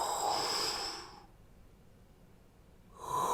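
A human voice imitates very slow, deep, resonant breathing like snoring: one long, rough exhale, then near silence, then another breath starts.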